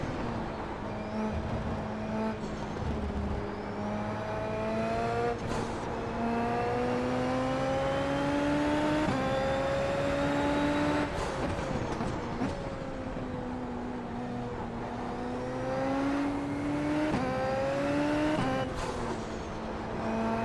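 Open-wheel Super Formula race car engine in iRacing at Spa, droning steadily with rising and falling pitch as it climbs through gears, with sharp drops at each shift, loud and continuous throughout.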